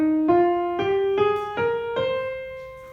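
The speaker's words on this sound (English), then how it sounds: "So a natural minor scale will sound like this." One instrument plays a steadily ascending natural minor scale, one clear sustained note after another, close and unaccompanied.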